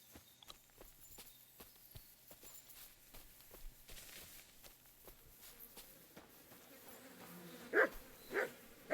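Dog in the medieval open-world game Kingdom Come: Deliverance II gives a couple of short barks near the end, after quiet soft footsteps and hoof-like clopping on a faint ambient bed.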